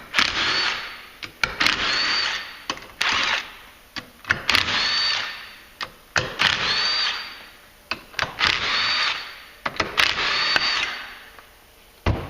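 On a 2014-15 Polaris 900 Ranger clutch, a power tool whirs in repeated short bursts as it removes bolts, with clicks and clanks between runs, close and loud, no voices.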